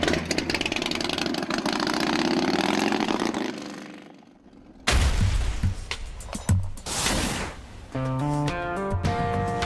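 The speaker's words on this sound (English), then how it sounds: "And at the heart of the machine, a head-pounding 124 cubic inch S&S V-twin." A custom motorcycle with a 124 cubic inch S&S V-twin engine runs loud and close, a deep rumbling idle that fades out, then returns with throttle blips and revving, overlaid at the end by music.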